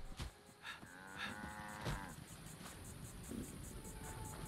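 A cow in the video game Fallout 76 gives a few drawn-out moos at low volume over faint ambient hiss, with no talking.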